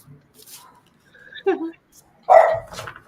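A dog barks in a few short bursts, with a louder bark near the end, amid indoor talk and household movement.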